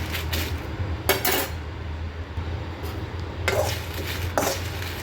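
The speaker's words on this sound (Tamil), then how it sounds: "இப்போ நம்ம காஞ்ச மிளகா வறுக்க போகிறோம்" Dried red chillies are dry roasted in a pan without oil, with a spatula clattering and scraping against the metal in a few sharp bursts over a low background hum.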